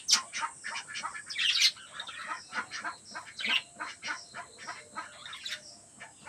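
A flock of lively birds chatters and calls nonstop in the early morning, with quick overlapping chirps and squawks, some near and bright, others fainter, plus a steady high background hiss.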